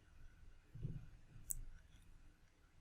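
A single faint, sharp mouse click on the Done button in ProjectSight software sounds once in an otherwise quiet room.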